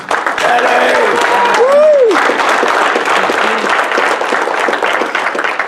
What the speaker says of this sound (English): Big round of applause for Dennis Cumming